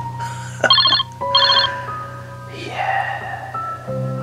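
A telephone rings in a horror story, with bright bell-like trilling bursts over a steady low drone and other tonal layers, fairly loud and in the foreground.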